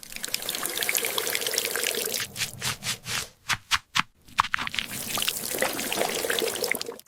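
Hands are washed under running tap water in a home kitchen, a steady close splashing and trickling stream broken mid-way by a series of uneven gurgling pulses as the hands move, with no talking.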